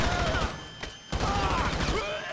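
Gunfire in the video game GTA 5 during an FBI headquarters raid: a dense run of shots close by, with a short lull near the middle before the firing resumes.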